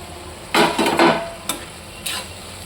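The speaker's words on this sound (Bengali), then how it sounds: "এবার ঢাকাটা খুলে নিচ্ছি" A lid comes off a pot of potatoes simmering in a little water: a short burst of clattering metal, then a couple of quieter single clicks, close and fairly soft, with no speech.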